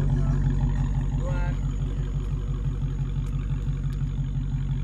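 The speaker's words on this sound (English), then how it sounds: "Let me hear that engine rumba." A Dodge Hellcat's engine idles with a steady, deep rumble at a street car meet in Miami, running continuously under nearby talk and crowd noise.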